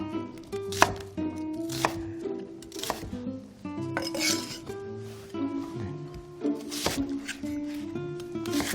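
Onion is chopped into bite-size pieces on a cutting board, with crisp, irregular knife strikes, close and distinct, some in quick pairs, interspersed with soft rubbing and light clinks.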